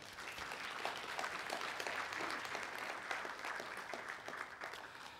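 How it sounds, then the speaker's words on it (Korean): A room of attendees at an open source community event opening claps for the sponsors, steady, even applause heard from a distance, fairly quiet and lasting about five seconds with no voices over it. "이 자리를 빌어 한번 같이 후원해 주신 그 분들에게 박수를 부탁드리겠습니다."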